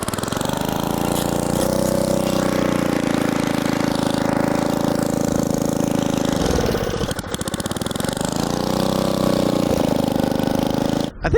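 A small garden engine runs on choke with a steady, buzzing idle close by. Its pitch sags and wavers midway, then recovers before the engine cuts out abruptly at the end.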